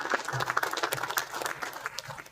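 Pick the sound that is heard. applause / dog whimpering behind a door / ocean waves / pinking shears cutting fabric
applause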